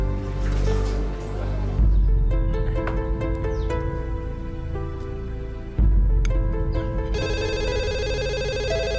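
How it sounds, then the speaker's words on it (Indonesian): A telephone rings with loud electronic ringtone tones that repeat in bursts, and a brighter melodic ring pattern takes over near the end. "Sebentar ya, Bang. Saya terima telepon dulu."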